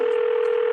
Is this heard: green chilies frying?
no